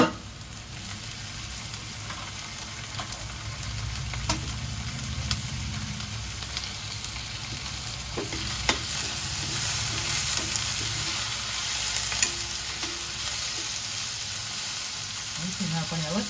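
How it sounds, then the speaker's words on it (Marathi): Tomatoes hiss and sizzle loudly as they fry with reddening onions in a pan, a steady dense crackle punctuated by a few sharper pops and stirring scrapes throughout. "आता आपण यावर टोमॅटो घालूया।"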